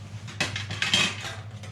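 Lightweight titanium alloy panels from an ultralight camping wood stove clink and rattle as they are handled, a few close metallic knocks and scrapes over about two seconds with no talking.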